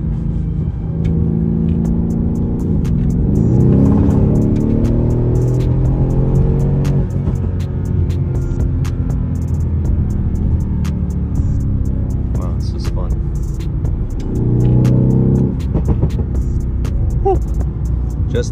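A 2012 Mercedes CLS63 AMG accelerating hard on a local road, its engine a steady loud rumble with rising rev sweeps around the middle and again near the end, and scattered sharp exhaust pops crackling throughout.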